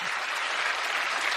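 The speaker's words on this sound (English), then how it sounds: "Don't miss the applause" A live radio show audience applauds in an even, sustained wash of clapping, close and consistent from start to finish, with no talking on top.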